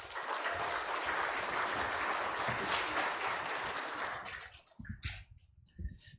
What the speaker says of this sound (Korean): 큰 박수로 맞이합시다